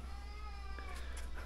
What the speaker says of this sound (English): There's absolute cats everywhere at the moment out here.